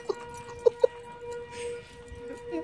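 An outdoor tornado siren sounds during its monthly test, a steady sustained wailing tone heard from a distance and fairly faint, with a few brief sharp knocks near the start.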